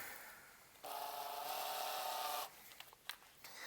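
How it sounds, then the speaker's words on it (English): A small drill bores into a metal chassis for a tube phono preamp, giving one steady high-pitched whine for about two seconds, followed by a few faint clicks and handling taps. "So back to our small drill."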